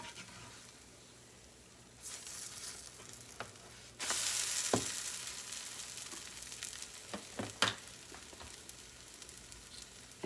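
Pancakes sizzle quietly in a hot pan, a soft continuous frying hiss that gets louder around the midpoint, broken by a few brief clicks and scrapes from a utensil.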